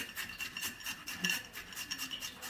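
Fresh ginger is rubbed across a kitchen grater in rapid, even strokes, a soft rhythmic rasping that repeats steadily at close range.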